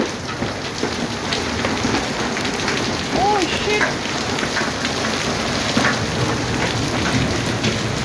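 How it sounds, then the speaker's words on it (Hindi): Hailstones pour down and bounce on the ground in a violent rainstorm, making a dense, continuous pattering clatter close by, with a brief spoken exclamation over it. "देखें इन्हें कैसे उछल उछल के आ रहे हैं ओले।"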